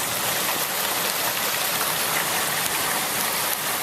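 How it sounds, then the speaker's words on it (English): Rain falling outdoors on a property with grass and a buried downspout, a loud, steady, broadband hiss of drops pattering on surfaces, unbroken throughout, with no voices. "The rain is good."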